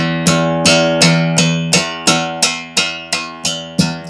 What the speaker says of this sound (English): I can move it around where I hit to get different sounds.